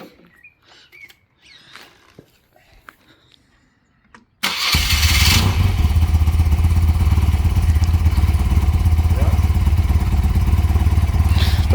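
Cold boxer motorcycle engine starting after quiet rustling and clicks, then settling into a loud, close, steady idle with a continuous rattling chatter.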